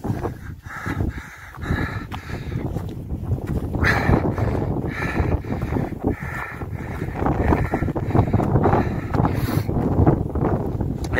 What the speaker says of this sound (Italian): sta tirando un vento pazzesco